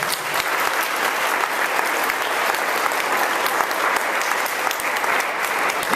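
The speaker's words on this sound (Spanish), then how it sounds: "Den un aplauso a ese rey." Dense, sustained applause from a church congregation fills the whole stretch, steady and loud with no break, a broad wash of many hands clapping together.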